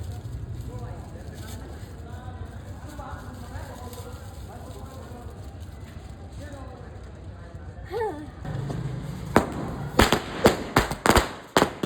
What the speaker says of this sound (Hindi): बम फोड़ रहे हैं।